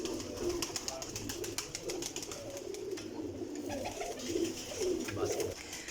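Soft cooing from a flock of show pigeons kept by a breeder, low murmuring calls repeating beneath faint clatter and a bit of background voice.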